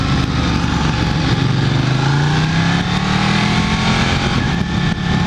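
Several sport motorcycles, such as a BMW HP4 and Ducati 1299 Panigale S, roar past on a race track, a loud continuous engine drone with a rising pitch sweep as the group goes by.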